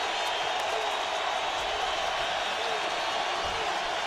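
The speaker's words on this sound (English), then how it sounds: "It's a mixed reaction from the crowd." A stadium crowd at an NFL game between the Oakland Raiders and San Diego Chargers gives a steady, mixed roar, a broad wash of noise under a commentator's voice.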